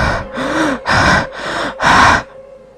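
Someone draws a series of deep, audible breaths to calm down, about five heavy inhales and exhales in a steady rhythm, close and alone.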